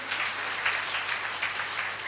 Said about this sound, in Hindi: तो तालियां इसी बात पे बजाओ। ताली बजाइए।